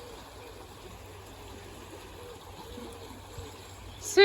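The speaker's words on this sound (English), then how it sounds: "I'm just letting the water into this, letting the water in to build the level up" Steady rushing of water pouring into a narrowboat canal lock as the level is built up, a continuous close wash with a sharp clunk at the very end.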